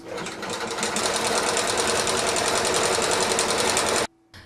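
Electric sewing machine running steadily at a short stitch length, joining fabric pieces for a handmade textile toy; a fast, even mechanical whir for about four seconds, close and loud, then stopping abruptly.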